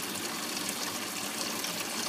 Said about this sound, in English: I got the hose going in the bucket, and I'm going to open that up and let that drain off.